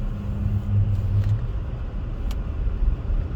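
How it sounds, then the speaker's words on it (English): A car drives down a snowy mountain road in Iceland during a December snowstorm, its engine and tyres giving a steady low rumble from inside the cabin, with a brief hum and a few faint clicks. "Okay, now I can drive."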